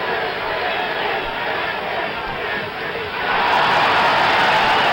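Boxing arena crowd during the 8th round of Carlos Monzón vs Emile Griffith in 1973, a steady roar of cheering that swells louder near the end as the audience reacts to a blow, with a voice talking over it.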